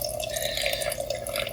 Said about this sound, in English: So it's pouring into the cup now.